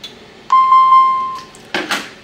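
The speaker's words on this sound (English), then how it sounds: "So you don't have to listen to that beeping countdown if it's on away mode." A Honeywell security system gives a single sustained electronic beep, clear and close, followed by brief rustling and handling noises.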